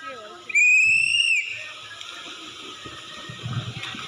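A single loud, steady whistle blast lasting about a second starts a running race, followed by quieter crowd noise and voices in the background.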